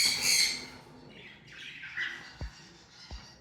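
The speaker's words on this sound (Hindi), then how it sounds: "उसके साथ हमारे पास 2 मेल पड़े हुए हैं सन कनेवर के" Sun conure parrots let out a loud, harsh squawk up close, followed by softer chattering calls and a couple of faint low thumps, with no speech.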